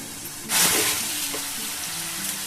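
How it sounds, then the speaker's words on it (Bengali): Spices hit hot mustard oil with a sudden bright sizzle, then settle into a softer steady crackle close by, with no talking. "এবার এগুলোকে বেশ সুন্দর করে ভেজে নেব"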